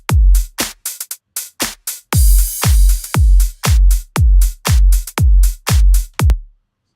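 A deep house drum pattern plays loud and dry, with a punchy kick on a steady beat and snare and clap hits in a simple repeating loop.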